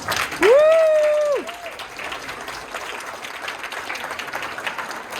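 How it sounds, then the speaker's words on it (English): A shrill whistle rings out over a board meeting crowd, followed by a steady wash of applause at moderate volume. "A big round of applause."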